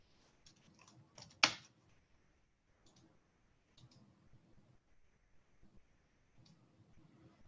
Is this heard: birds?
no